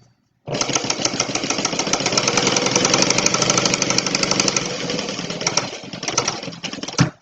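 A sewing machine runs continuously while stitching down the sides of a Stella Weekender bag: a loud, close mechanical whir with rapid needle rhythm that starts abruptly, holds for several seconds, then ends in a few clunks.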